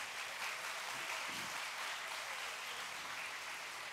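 Concert audience applauding at a gospel show, a steady, even wash of clapping that holds at the same level throughout, with no voices rising above it.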